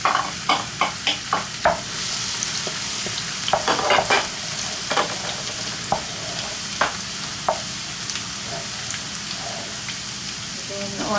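Pork sizzling and frying in its own rendered fat for Filipino humba, with steady crackle and a run of sharp stirring clatters against the pan, close by and with no talk.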